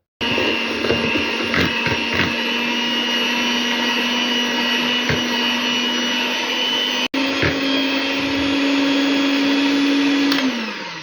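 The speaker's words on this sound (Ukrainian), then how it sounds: "І зараз зіб'ю трошки міксером." An electric hand mixer whirs steadily as it beats sugar for a berry pie batter, a loud continuous motor drone with a brief cut near the middle before it resumes and then winds down.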